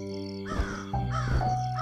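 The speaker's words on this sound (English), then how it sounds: "This crow is my friend." A crow in a narrated children's fairy tale gives a few harsh caws in quick succession, loud and close, over a sustained musical background.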